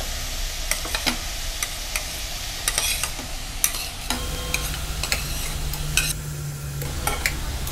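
Chopped leeks and potatoes for leek and potato soup cook in a pot, giving a steady soft sizzle with scattered clicks and scraping taps of stirring, close and continuous, without talk.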